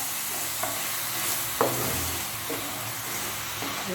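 Water poured onto hot sugar in a pan for caramel pudding hisses and sizzles steadily at close range, with faint scraping stirs and a few soft knocks.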